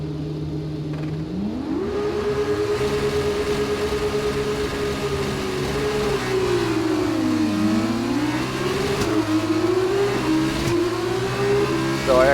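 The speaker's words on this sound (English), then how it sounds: "I usually get swamped just dropping the clutch in the F2." Formula 2 race car engine in the F1 2019 racing game revving hard at a race start in Barcelona, one loud continuous rising and falling engine tone with gear-change dips, alone without talk.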